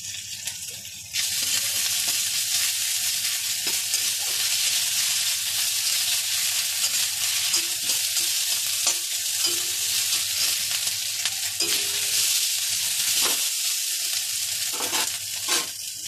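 Ginger garlic paste sizzles and fries hard in a pan for an egg curry with eggplant, a steady bright hiss that starts abruptly and runs continuously, with occasional stirring scrapes and no talk.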